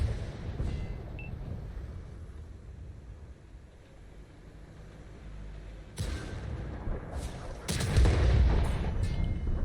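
Cannon fire in a tank battle video game: a low rumbling boom lands about midway, then a heavier, louder blast near the end over a constant engine drone.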